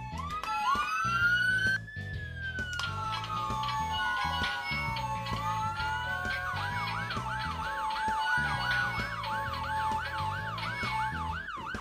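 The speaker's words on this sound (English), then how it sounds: "Helen Flood was coming along in her lovely ambulance" A loud ambulance siren in a Fireman Sam cartoon wails, sweeping up and down then switching to a rapid yelp, over a rhythmic musical backing.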